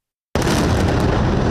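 An explosion in Gaza City at night hits with an abrupt onset, then a loud, dense roaring rumble that fills the rest of the short clip.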